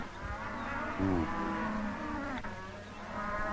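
Cattle held in pens moo in a steady, drawn-out low lowing that continues throughout, with several overlapping calls at moderate volume and no talk.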